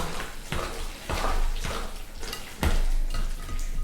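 Sultanas being mixed into a wet bread pudding mixture with a spoon in a bowl: regular squelching strokes about twice a second, close and moderately loud, with no one speaking.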